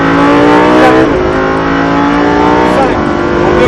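A Lamborghini Huracan V10 engine accelerates hard on the Jean-Pierre Beltoise race circuit, loud and close throughout with rising revs and gear shifts, as a voice speaks briefly over it.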